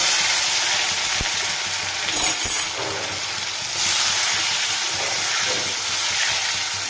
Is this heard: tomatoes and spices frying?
yes